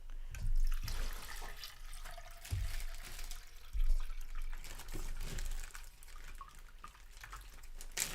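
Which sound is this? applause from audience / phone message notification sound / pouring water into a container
pouring water into a container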